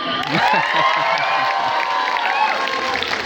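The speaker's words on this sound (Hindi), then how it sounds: "उनके लिए जोरदार तालियां।" A stand-up comedy event audience cheers and applauds in a hall, a dense sustained wash of clapping, shouts and whoops that stays loud and steady throughout with no one speaking over it.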